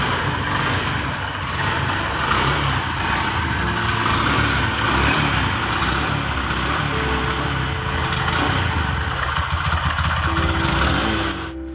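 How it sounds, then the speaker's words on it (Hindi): A 2022 Honda Shine 125cc motorcycle engine idles and putters steadily up close, a continuous rough exhaust rumble with slight revving. "चलिए दोस्तों इस बाइक की एग्जॉस्ट साउंड को सुन लेते हैं।"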